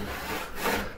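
Veritas hand saw cutting into firewood, a close rasping stroke through the wood with a brief push-and-pull rhythm.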